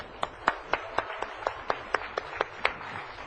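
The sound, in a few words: congregation clapping for a deacon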